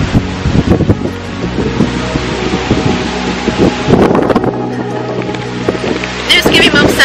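Strong wind buffets the microphone outdoors during a walk, gusting loudly and roughly throughout while a person talks underneath it.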